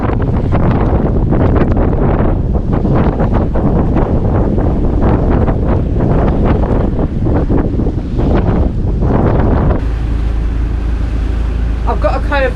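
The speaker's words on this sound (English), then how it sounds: "the flexi panels at the front, the solar panels, are going mad with the wind" Strong wind roars and buffets across a boat at anchor in rough Caribbean weather, flexible solar panels flapping in the gusts, a loud, dense, continuous rush that shifts in intensity.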